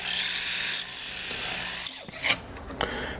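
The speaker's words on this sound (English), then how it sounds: "So I'm going to take my sanding disc right down the middle of that thing." Sanding disc grinding down the middle of a soldered angel wing earring, a loud steady high buzzing for under a second, then quieter scraping touches and short rasping bursts.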